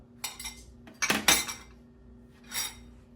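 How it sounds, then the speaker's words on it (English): Eggs for crab cakes being beaten with a utensil in a bowl: a few quick bursts of clinking and scraping against the dish, close and fairly loud, with short pauses between and no talking. "So what I do is I just take the eggs, mix them up like this, throw them in a bowl, done."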